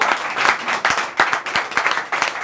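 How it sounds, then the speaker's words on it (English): Audience at a leadership master class on sustainable creativity and innovation breaks into applause, a dense patter of many hands clapping with a few sharper individual claps standing out, steady and fairly close for a couple of seconds. "And I think he deserves a round of applause,"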